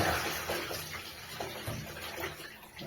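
Dirty water drains from an uncleaned household water heater boiler in a soft, fairly faint, continuous splashing gush, with no talking.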